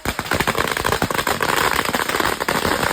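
A string of firecrackers bursting outdoors in a yard beside a house, a rapid, dense crackle of sharp pops running continuously and loud throughout.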